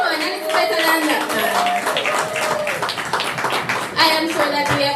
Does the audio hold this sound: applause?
yes